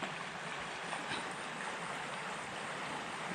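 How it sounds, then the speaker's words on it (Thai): Gently flowing water in a small canal at a fishing spot, a steady soft broadband wash with no distinct splashes, moderately close and continuous throughout. "สภาพหมายก็เป็น น้ำไหล ไม่แรงเท่าไหร่ ถือว่าสวยอยู่ครับ เป็นคลองเล็กๆนะครับ"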